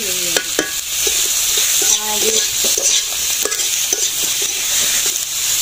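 Food stir-fried in oil with turmeric in a pan, a steady sizzle with repeated scraping stirs and a few light clinks of the utensil against the pan, close up.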